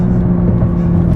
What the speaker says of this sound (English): get ready for this straight line acceleration